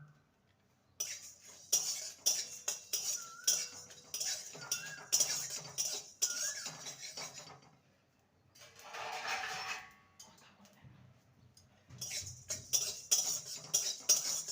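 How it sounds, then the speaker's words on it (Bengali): Whole cumin, coriander, cardamom, cinnamon sticks and a halved bay leaf fry in a pan for a jackfruit dish, with soft sizzling under repeated clinks and scrapes of a metal spoon stirring, moderately close. "ওয়ান স্পুন গোটা জিরে ওয়ান স্পুন গোটা ধনে আর তিনটে এলাচ আর দুটো দারচিনি স্টিক ভেজে নেব"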